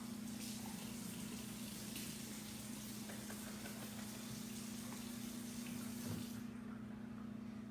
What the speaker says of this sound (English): I'm over here draining my black beans,